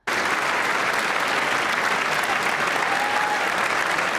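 Sustained, dense applause from a large crowd at the State of the Union address, loud and steady throughout with no pauses.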